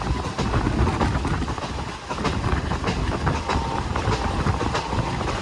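An Ernakulam–Velankanni train rumbles steadily along the rails, a dense continuous roar with faint rhythmic clatter from the wheels, close and loud throughout.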